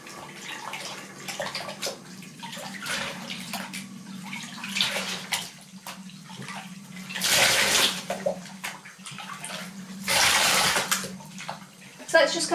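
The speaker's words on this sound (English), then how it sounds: "you're just going to want to dunk the hair in and just swirl it around." Hair extensions dunked and swirled in a bowl of toner water, giving close sloshing and splashing in irregular bursts with louder swishes, as someone talks over it.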